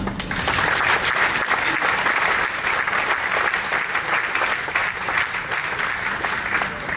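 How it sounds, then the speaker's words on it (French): Audience applauding an award winner honored for contributions to the community, loud sustained clapping from many hands, dense and even from start to finish. "Et je voudrais pour ça que l'on puisse tous vous applaudir."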